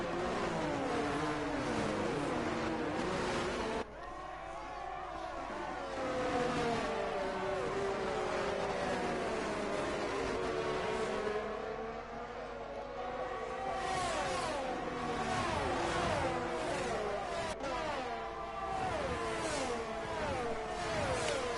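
Formula 1 cars in F1 22 at the Azerbaijan Grand Prix howl with steady high-pitched engine whine, the pitch rising and falling through gear changes as several cars race past continuously.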